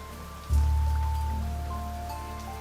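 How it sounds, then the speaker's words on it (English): A rain sound effect used during a tabletop roleplaying game session. A steady, broad hiss of rainfall starts abruptly, stays loud and even, then fades slightly, with no talk over it. "Rain."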